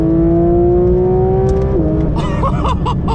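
A 2023 Porsche 911 GT3 RS (992) in track mode accelerates hard, loud and close, its engine note climbing steadily before a sudden shift, with a brief burst of further engine sounds after it.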